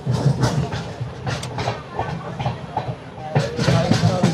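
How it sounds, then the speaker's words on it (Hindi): Janhit Express train pulling out of Hajipur Junction bound for Saharsa, a steady rumbling rattle of carriages and wheels heard from inside a crowded sleeper coach, with voices talking throughout. "5 मिनट के स्टॉप के बाद हाजीपुर जंक्शन से हमारी ये ट्रेन वापस से डिपार्चर हो गई है सहरसा जंक्शन के लिए।"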